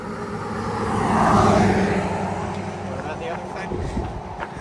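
A car passes on a road near a trail crossing, its broad rumble swelling to a peak around the middle and fading away, with outdoor background hum throughout.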